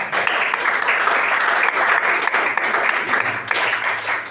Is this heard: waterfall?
no